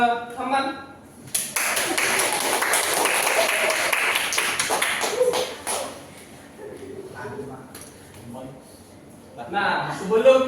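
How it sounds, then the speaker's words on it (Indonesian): A classroom applauding a student during peer teaching, a burst of many hands clapping for several seconds, preceded and followed by talking voices. "Tepuk tangan dulu untuk"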